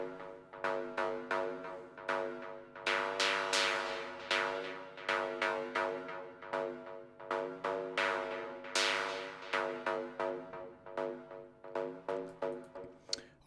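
Arturia MicroFreak synthesizer running a Noise Engineering oscillator through its effect, playing a quiet sequence of short plucky notes with a swelling, pulsing rhythm and bright bursts, no voices over it.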